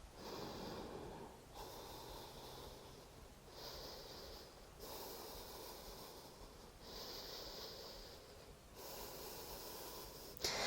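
Slow rhythmic breathing during a yoga abdominal exercise, about five long audible breaths through the nose with faint snorting air, close and quiet with no talking.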